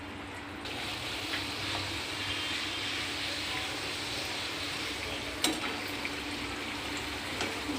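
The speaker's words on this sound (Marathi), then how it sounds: "आता आपण तेलामध्ये एक एक करून पुरी सोडून घेऊयात आणि छान तिला तळून घेऊयात" Jackfruit puris deep-frying in hot oil, a steady bright sizzling hiss running throughout with a brief crackling spike midway, no talking.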